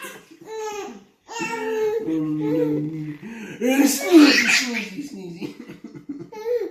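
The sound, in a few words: man sneezing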